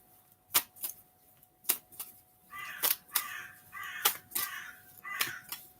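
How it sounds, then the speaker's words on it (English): Crows caw in short, loud bursts, several harsh calls spaced irregularly and some overlapping, close by with little else around. "The crows are talking."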